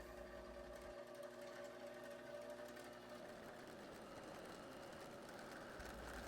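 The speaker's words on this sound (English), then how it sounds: "we're going to fill our bobbin until the string starts touching the little bumper" Sewing machine winding a bobbin with thread: a steady, quiet mechanical whirr running continuously, with a low hum that drops out partway through.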